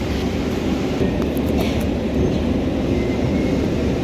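A Kolkata Metro train rumbles steadily along the tracks, a loud continuous low roar with a rolling clatter heard from inside the carriage.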